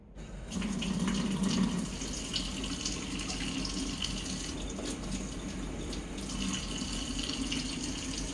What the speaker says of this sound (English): Add 4 teaspoons water and stir.